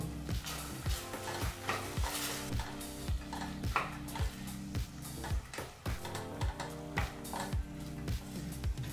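Fresh green peas fry in oil over a medium flame, with a steady sizzle and repeated spatula scrapes against the pan, over a sustained tonal background.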